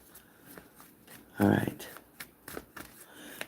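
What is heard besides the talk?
shuffling tarot cards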